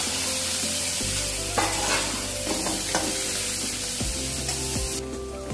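Chopped garlic and green chilies frying in hot oil for a pumpkin leaf and fish head curry, a continuous close sizzle with scraping stirs and a low hum underneath, no talking.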